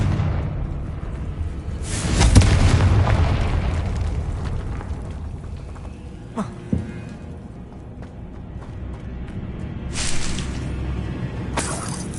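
Confringo blasting-spell explosions from the video game Hogwarts Legacy: a loud burst near the start with a rumbling tail, followed by a sharp pop and further blasts toward the end.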